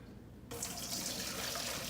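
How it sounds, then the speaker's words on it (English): Boiling water from cooked purple potatoes pours from a pot through a colander into a kitchen sink, a steady close splashing rush that starts abruptly and continues without talk. "we're gonna drain them in the sink in a colander"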